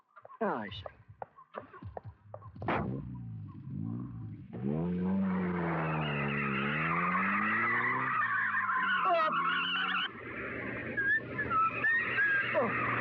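A car driven fast skids, its tires screeching in long wavering squeals that rise and fall for several seconds after a few sharp knocks and brief voices at the start.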